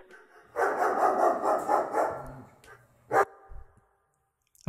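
A dog gives a run of close, loud barks, followed by a brief pause and a couple of quieter yips at the end.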